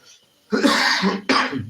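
Two harsh coughs in quick succession, the first longer and the second short, loud and close after a brief near-silence.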